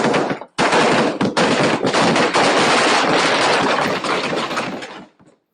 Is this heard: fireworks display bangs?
yes